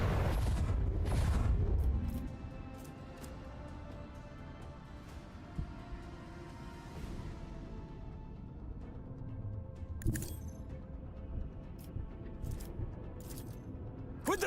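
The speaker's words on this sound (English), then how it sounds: "Macro cannons, open fire!" Macro cannons fire in the Warhammer 40,000: Rogue Trader video game, opening with a heavy low rumbling boom that fades into a long rumble, followed by sharp cracking impacts toward the end.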